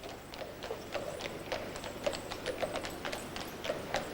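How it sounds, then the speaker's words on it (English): Horses pulling beer carts through busy London streets clip-clop with a steady, even rhythm of hoof strikes on the road. About a dozen clear clops sound at moderate distance over a soft background of street noise. "Listen, the sound of horses in the busy streets of London."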